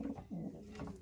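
A dark checker pigeon hen coos softly at a club race loft, low rounded coos repeating in a steady rhythm, close and fairly quiet with no talking.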